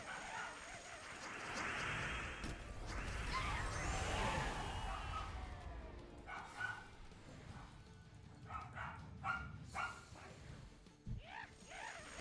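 A dog barks, yips and whines indoors, a run of short excited barks and high whimpers over a few seconds, then sporadic softer yelps, with faint background noise.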